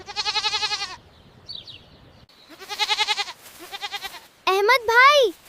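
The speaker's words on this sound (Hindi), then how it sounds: "ये हमारा सुपरस्टार बकरा है।" An animated Eid goat named Chando bleats in several wavering, quavering calls separated by short pauses, loud and close, the final bleat higher and more strained.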